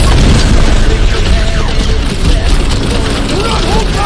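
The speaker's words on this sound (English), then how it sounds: "Rocket! Fireworks!" Rocket's firework attack explodes in a dense battle in the Guardians of the Galaxy video game, with a rapid flurry of loud booms and pops over continuous combat noise and character shouting.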